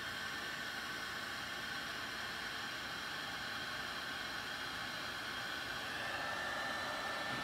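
A heat gun blowing on shrink wrap tubing during a Lionel 248 locomotive engine repair makes a steady, even rushing hiss that holds unchanged throughout, fairly quiet and with no talking.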